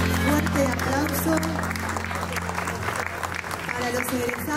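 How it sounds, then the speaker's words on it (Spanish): An audience applauds the 2023 graduates at a graduation ceremony, with steady, sustained clapping that runs the whole time, mixed with music and voices. "Fuerte aplauso"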